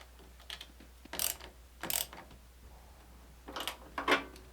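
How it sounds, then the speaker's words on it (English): Nuts and bolts being reinstalled on the battery terminals of a Hustler Raptor mower make a few quiet, scattered metallic clicks and ratcheting bursts, close by and with no voices. "Reinstall the battery terminal nuts and bolts plus the locking washer."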